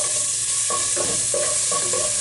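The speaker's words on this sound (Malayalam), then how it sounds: "ഈ എണ്ണയിലേക്ക് നമ്മൾ എടുത്തു വെച്ചിരിക്കുന്ന ഇഞ്ചി വെളുത്തുള്ളി പേസ്റ്റ് ചേർത്ത് കൊടുക്കാം." Ginger garlic paste hits hot oil for an egg biryani, and a loud, steady hiss comes up close, broken by a few scraping stirs and no talking.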